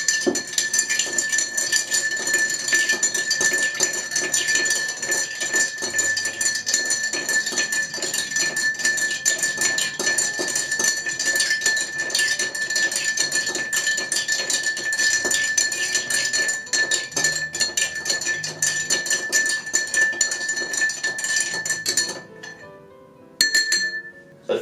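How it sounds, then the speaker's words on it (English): Ice cubes clink and rattle continuously against a mixing glass as a Don Julio negroni is stirred, loud and close, a dense rapid tinkling that stops abruptly near the end. "What we're going to do now is add our ice. And we'll just give it a stir now."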